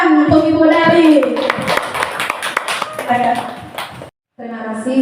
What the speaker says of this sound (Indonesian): Tepuk tangan untuk Ibu Nelly.